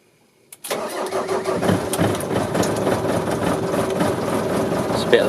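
A Ford Transit 2.5 diesel engine cold-starting on a February day: a brief crank, then the engine catches and settles into a loud, close, lumpy idle, rough as if firing on three cylinders, with clattering diesel knock throughout.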